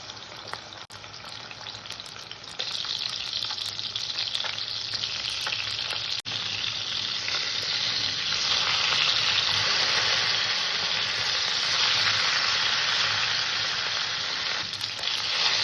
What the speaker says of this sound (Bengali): তেলটা গরম হয়ে গেছে আমি মাছ ছেড়ে দিলাম মাছ দুটোকে সুন্দর করে ভেজে নেব